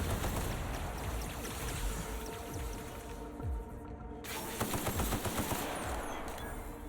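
Gunfire in The Outer Worlds, a sci-fi shooter: dense bursts of rapid automatic shots with some single cracks, loud and close over a steady hum of ambient game noise, without any talking.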